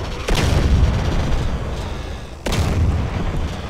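Two heavy explosions in the zombie survival video game DayZ, a base under bombardment: each a sharp booming blast with a long rumbling tail, loud and close, the second about two seconds after the first.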